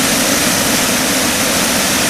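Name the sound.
water flowing at the Franklin Roosevelt Memorial fountain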